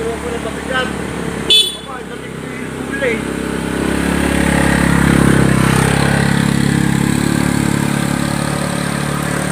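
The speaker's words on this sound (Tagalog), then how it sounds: "may dumaan na motor guys kasi araw naman ngayon" A motorcycle engine rises in the background, rumbling louder as it approaches and passes, with a brief clatter early on and voices talking over it.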